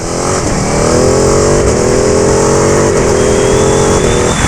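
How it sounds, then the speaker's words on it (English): A 2019 Ducati Panigale 959 sport motorcycle engine revs hard and climbs steadily in pitch as it accelerates with clutchless shifts, loud and close, with wind rushing past and no voices. "does this bike get up and move"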